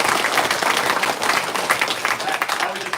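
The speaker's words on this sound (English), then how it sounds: "big round of applause for you guys" A crowd gives dense, continuous applause at a social media meet and greet for a hobby gathering, a close round of clapping filling the whole moment.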